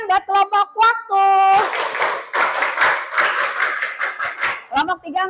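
A classroom group breaks into a few seconds of lively clapping from many hands, with a teacher speaking just before and after.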